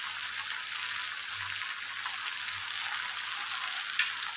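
Fish head chachra sautéing in a pan with turmeric, cumin and coriander powder, a steady close sizzle with faint stirring, running continuously without talk.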